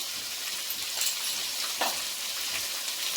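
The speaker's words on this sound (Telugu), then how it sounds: "ఇప్పుడు అల్లం తెల్లగడ్డ పేస్ట్ వేసుకుంటున్నాను" Ginger garlic paste sizzles in a pan with fried tomato while a chicken leg piece biryani is being cooked, a steady close frying hiss with a few brief stirring scrapes.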